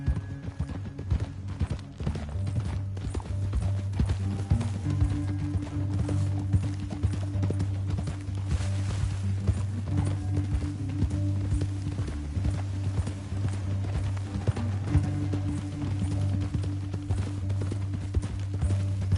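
Horses' hooves clip-clopping steadily in a PS4 western video game, a continuous rhythmic run of hoofbeats over a droning low background for the full length, with no talk.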